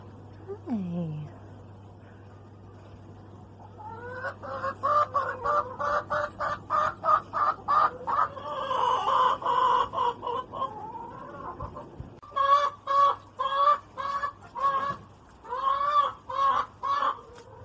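Backyard pet hens cluck loudly and close in a garden, giving out rapid rhythmic bursts of squawks that build into a dense run, pause briefly, then resume in sharp repeated calls.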